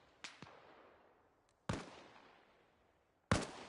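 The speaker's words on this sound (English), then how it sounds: "I hear gunshots in that direction." Distant gunshots in a PVE operations video game, three sharp reports spaced over a few seconds, each followed by a long fading echo, heard alone without talk.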